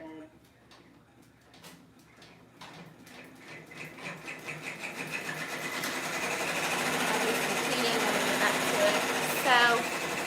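An embroidery machine stitches a craft order, its rapid rhythmic needle clatter starting sparse and building into a steady, loud mechanical chatter that runs continuously to the end.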